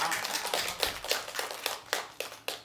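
An audience at a brain education symposium in a hall claps together in a dense, steady patter of many hands. The applause sounds moderately distant and runs continuously for a few seconds, with sharper individual claps now and then.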